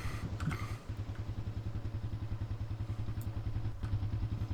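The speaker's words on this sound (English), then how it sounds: "Was somehow this motorcycle loud, or like the boats?" A video game motorcycle engine idles and revs with a steady, rhythmic low putter, moderately close, with a few faint clicks and thuds.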